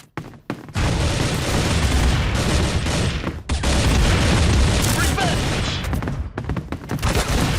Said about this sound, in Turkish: Şuradan bombayı seçim. Yukarı attım ama.